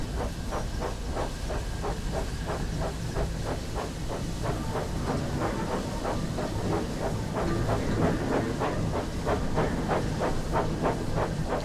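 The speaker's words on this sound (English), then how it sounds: "press and hold the control shown here until Thomas starts moving backwards" Thomas the Tank Engine steam locomotive in Train Sim World 5 moving backwards, steady loud steam hiss over a regular rhythmic chuffing and rail clatter, continuous and close, with no voices.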